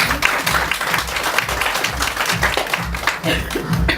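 Wedding guests applauding after the couple's vows, a dense, steady round of clapping with some low rumble underneath, continuous throughout.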